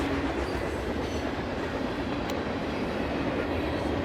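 A train rumbles along a railroad beside the Mississippi River, a steady, dense broadband roar with no breaks, loud and continuous like cars rolling past close by.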